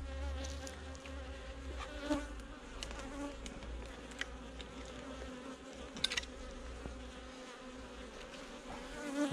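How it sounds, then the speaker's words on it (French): A hornet buzzes steadily close by at a beehive, its drone wavering as it moves around, with a low rumble of wind or handling noise underneath. "Et on a un frelon qui vient nous embêter, comme d'hab."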